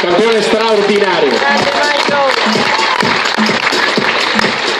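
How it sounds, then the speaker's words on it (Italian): Audience applause at a team presentation breaks out around an amplified announcer who keeps talking over it, the clapping building into a steady roar that fills the space behind the voice. "alza, voglio farti un applauso."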